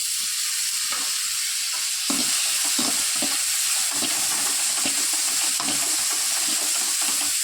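Tomatoes fry with onion and green chilli in an oily pan, a steady close sizzle broken by repeated scraping stirs of a spatula, with no voices.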